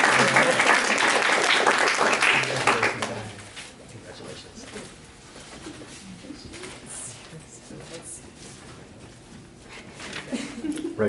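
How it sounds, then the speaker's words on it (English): Audience applause for a speaker at a class gathering, loud and dense for about three seconds, then fading into quieter room noise with voices and soft bird cooing. "All right, round of applause."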